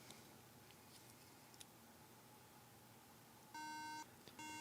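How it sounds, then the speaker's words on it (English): A computer beeps on power-up from a fault: two short electronic beeps near the end, a longer one followed by a brief one, over faint quiet room noise. "All right, it beeps."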